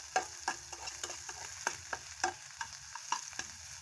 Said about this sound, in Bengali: আরেকটু ভাজতে হবে।